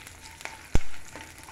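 Green chillies dropped into hot oil while making mint chutney, giving a short sharp sizzle burst that quickly fades against a quiet background.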